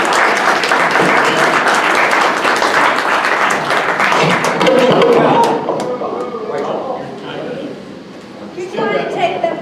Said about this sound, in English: I think we owe these guys a hand of applause for all their work.